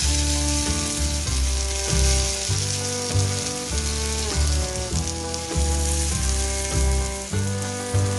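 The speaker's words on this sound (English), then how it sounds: "Let that guy cook down a little bit, and we'll flip it over or fold it over." A quesadilla fries in a hot pan with a steady, loud sizzle and crackle that runs throughout, close up and with no talking.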